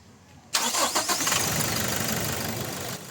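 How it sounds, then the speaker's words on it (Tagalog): A Toyota Innova engine cranks briefly and catches after a quiet moment, then settles into a steady idle, close and moderately loud. "Kaya start ko na itong makina."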